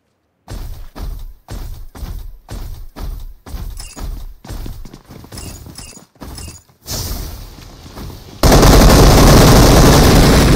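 Video game gunfire in a battle zone comes in a rapid string of about a dozen sharp, close shots, then gives way to a sudden loud, sustained roar.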